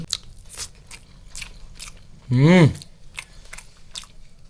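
Someone eats hot rice mixed with ridge gourd and raw prawn curry, with soft close chewing and crunching throughout and a brief voiced hum in the middle.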